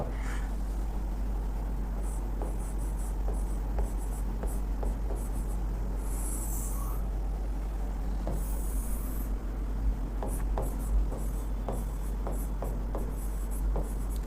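Notes being written during a calendar math lecture: steady scratchy strokes of writing on a surface over a continuous low hum, with short bursts and pauses as words are formed, close and fairly clear.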